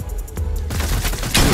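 Gunfire in the video game Fortnite, a rapid fusillade of loud shots close together, growing denser and louder toward the end.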